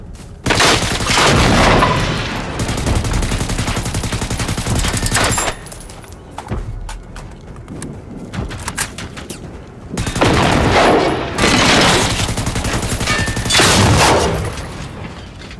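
EMP rockets and gunfire in Generation Zero, dense rattling volleys and blasts in two loud stretches separated by a quieter gap with scattered shots, and a voice briefly speaks in between.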